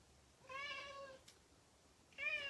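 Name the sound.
pet cat meowing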